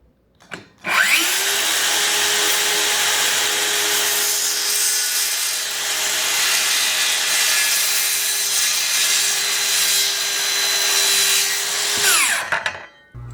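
A power saw cuts steadily through a wooden board, trimming about two inches, for about twelve seconds, a loud continuous whine that starts abruptly and spins down at the end.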